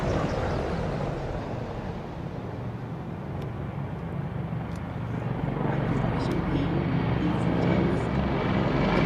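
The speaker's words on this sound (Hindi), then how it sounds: "the heartbeat building up as the Indian Air Force presents its flypast" Indian Air Force aircraft fly past in formation low over the Republic Day parade, a broad sustained engine roar that stays loud throughout while a commentator talks over it.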